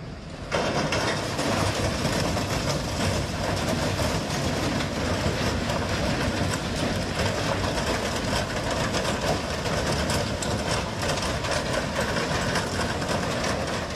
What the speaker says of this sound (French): Les trains ont besoin d'un certain temps pour s'arrêter complètement.